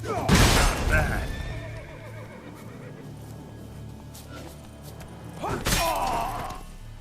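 Roach, the horse in The Witcher 3: Blood and Wine, lets out two loud, close whinnies, one at the start and one near the end, with quieter game sounds between them.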